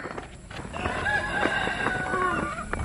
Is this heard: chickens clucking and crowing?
yes